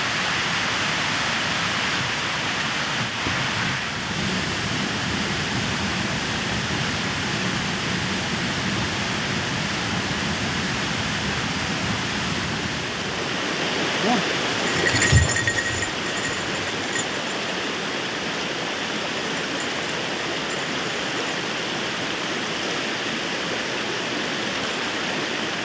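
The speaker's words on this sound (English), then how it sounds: "Nice little walk along the creek here, Seneca Creek." Steady broadband rush of Seneca Creek flowing beside a hiking trail, a continuous close wash of water that holds even throughout, with a brief louder splash or thump midway and no talking.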